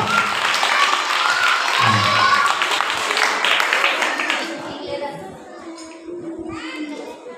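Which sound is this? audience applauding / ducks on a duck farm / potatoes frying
audience applauding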